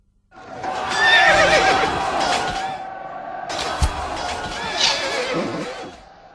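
Horses whinny loudly and close by, two long neighing calls separated by a short pause, with faint hoof and harness noise beneath as riders turn their mounts before the battle of Zama.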